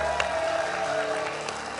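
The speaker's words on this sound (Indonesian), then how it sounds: "Tepuk tangan dulu buat SMK Ricardo Tangerang." Studio audience clapping for a vocational school group on a TV show, a brief, moderately loud burst of applause with crowd murmur.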